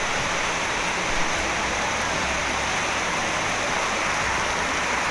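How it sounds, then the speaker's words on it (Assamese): Heavy storm rain pours down in Assam, a dense, constant hiss of water on surfaces, loud and unbroken throughout with no voices. "এই মুহূৰ্তৰ ভয়ংকৰ বৰষুণৰ পৰিৱেশ টাইমলিটৰ দৰ্শকসকলক দেখুৱাই আছোঁ।"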